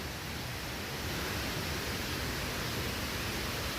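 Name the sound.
rushing water of small waterfalls near a dam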